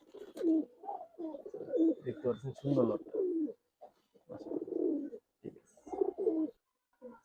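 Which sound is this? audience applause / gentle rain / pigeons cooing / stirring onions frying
pigeons cooing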